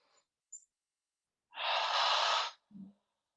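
A single deep, breathy exhale during a yoga breathing exercise lasts about a second, close and clear, framed by soft faint breaths before and a short sigh-like tail after, with no talking.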